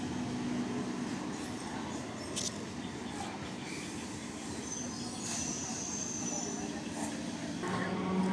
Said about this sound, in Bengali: একটা ট্রেনেও ঢুকে গেল